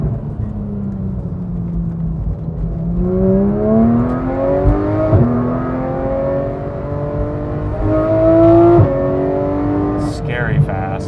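Porsche 991 GT3 fitted with a Dundon Motorsport exhaust and headers accelerating hard, the engine note climbing through several gears with quick shift breaks, loud and close from inside the car.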